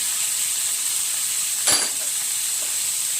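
Curry leaves and crushed garlic paste frying in a pan give a steady, bright sizzle throughout, with one brief sharp crackle-burst midway as something drops into the hot oil.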